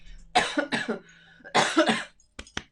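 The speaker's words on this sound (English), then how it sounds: "Very inopportune cough there." Two harsh, close coughing fits, each a quick cluster of hacks separated by a pause, followed by a couple of short throat clears.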